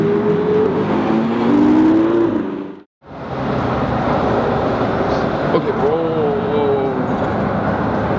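Ferrari cars, including a 488, pull away at a hypercar event. Engines rise and surge close by through most of the clip, with a brief drop to near silence partway through. People talk over the engine noise.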